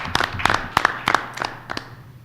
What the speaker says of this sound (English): let's give them, even though we weren't here yesterday, a round of applause for our students